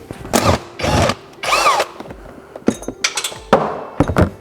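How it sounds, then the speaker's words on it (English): A power tool runs in repeated short bursts while removing a nut from the water pump on a Toyota 2UZ-FE V8, reached through the pulley. Metallic clinks and knocks fall between the close, loud whirs. "We're going to remove the nut here that's on the right side of the pump"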